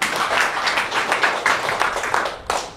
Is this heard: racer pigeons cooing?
no